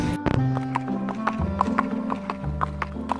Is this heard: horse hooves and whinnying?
yes